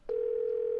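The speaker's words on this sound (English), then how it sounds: "Phone is ringing." A telephone tone sounds in a Nancy Drew mystery game, a single steady electronic tone that starts abruptly and holds unbroken, clean and fairly loud.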